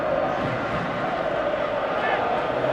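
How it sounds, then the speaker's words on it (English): A stadium crowd in a football video game roars and murmurs in a steady, dense wash of noise, continuous and fairly loud throughout. "you can hear how the crowd are reacting to this too"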